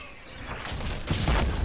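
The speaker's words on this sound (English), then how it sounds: "That's a cannon." A cannon fires in a video game, a sudden loud crunching boom with a rumbling, crashing tail that builds over a second or so.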